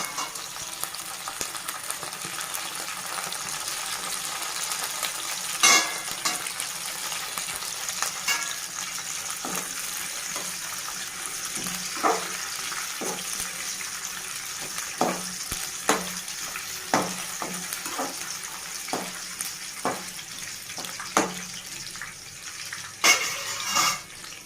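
Peanuts and green chillies fry in a pan for Telugu kothimeera pachadi, a steady close sizzle broken by repeated scraping stirs and clicks, with no talking.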